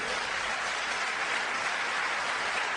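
A church congregation claps together in steady, dense applause that fills the room at an even level from start to finish, with no voices standing out above it.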